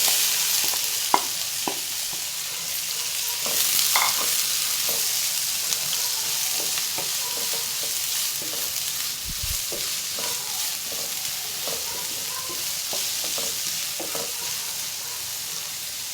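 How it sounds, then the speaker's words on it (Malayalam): Onion frying in oil alongside popped mustard seeds for a breadfruit thoran: a continuous close sizzle with scattered spatula clicks and stirring scrapes throughout. "കടുക് പൊട്ടിയിട്ടുണ്ട്. നമുക്കാദ്യം ഉള്ളി തട്ടാം."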